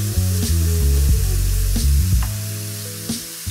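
Shrimp fry in a pan for a creamy shrimp Alfredo, giving a steady, close sizzle with occasional spitting pops and no talking.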